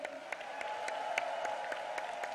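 Crowd applause at a Democratic Party rally, a fairly faint, steady wash of clapping from a large audience with scattered sharper claps standing out, heard at a distance.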